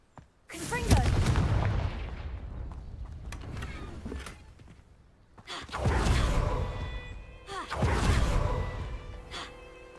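Confringo fire spell blasts in Hogwarts Legacy, three loud booming explosions with crackling tails spaced a few seconds apart; a voice speaks between them.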